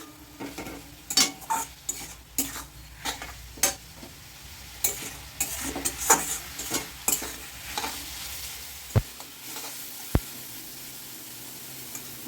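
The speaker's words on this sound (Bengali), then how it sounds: "এইবার এটাকে আমি নেড়ে চেড়ে দিচ্ছি" A spatula clatters and scrapes again and again as dried fish curry is stirred in a pan. The strokes come in an irregular rhythm over a soft sizzle, and two sharper knocks sound near the end with no speech.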